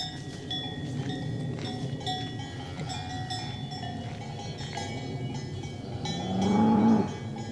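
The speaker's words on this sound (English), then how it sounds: "those cowbells and the cows that we can hear" Cows moo in a forest while cowbells clank irregularly nearby, a long loud moo swelling near the end over a steady outdoor background.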